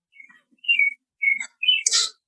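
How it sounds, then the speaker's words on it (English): Birds outside sing a few bright whistled chirps close by, in short separate bursts, with a harsher, scratchier note at the end. "I love hearing the birds here around like 4 or 5 a.m. I hear them chirping away."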